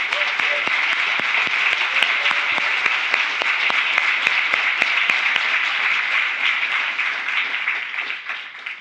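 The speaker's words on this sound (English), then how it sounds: "Let's give them a big round of applause." A conference audience gives a big, sustained round of applause for the organizers, dense clapping with some louder individual claps standing out, fading slightly at the end.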